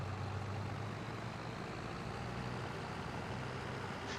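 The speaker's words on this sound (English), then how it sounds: "Little tractor's pulling this really well." A small tractor engine in Farming Simulator drones steadily while pulling an implement, with a low, even hum and a constant rumble that runs unbroken throughout.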